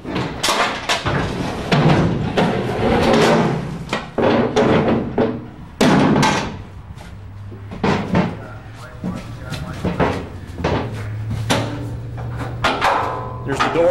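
Metal clanks, bangs and latch rattles come from the door to the upper deck of a cattle transport trailer as it is handled, in a dense series of close impacts with a voice talking alongside.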